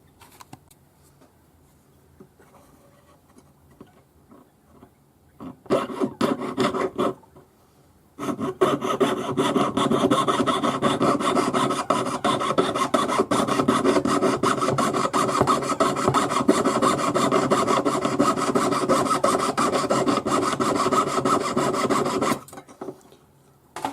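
A jeweler's saw cuts out a forged pearl ring piece held against a bench pin with fast, steady rasping strokes. A few tentative strokes and a brief pause come first, then close, continuous sawing.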